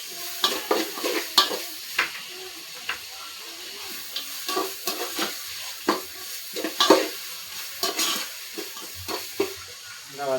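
Chicken curry base sautéed in a pan with a spoon scraping and stirring in irregular bursts over a steady sizzle, close and fairly loud.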